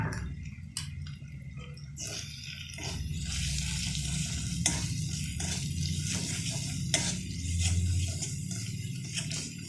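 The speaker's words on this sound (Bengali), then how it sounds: "ভালো করে সব মশলাগুলো কষিয়ে নেব।" Chili and turmeric paste with spices being stir-fried in a pan for spicy potato curry with peas, giving a steady low sizzle with scraping and stirring clicks throughout, no talk.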